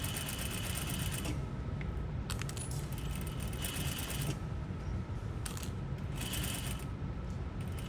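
A sewing machine stitches steadily along a fabric seam reinforced with boning, a continuous close mechanical whir that runs the whole stretch with brief changes in pace and faint rattling.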